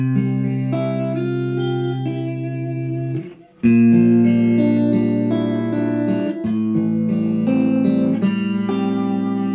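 A clean Fender 70s Stratocaster with EMG David Gilmour pickups plays sustained chords and ringing notes with a touch of reverb, loud and close, with a brief pause midway.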